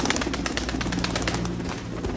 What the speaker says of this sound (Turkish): Bu görmüş olduğunuz kuşlar bu akşam YouTube'da Emin Yaşlı Canlı Mezat kanalında saat 9'da mezata atılacaklar